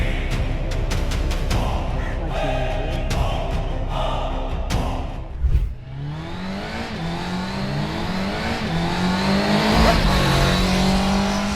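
Vehicles speed past on a road, with engines roaring close by in quick succession. Revving rises and falls, and a tyre squeals as they whoosh by.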